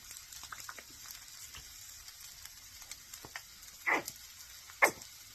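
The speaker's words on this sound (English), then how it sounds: "you can hear that sizzle as the moisture is leaving the leaves" Soft crackling sizzle of Brussels sprouts frying in a pan, with light scattered pops and a couple of louder scraping stirs near the end.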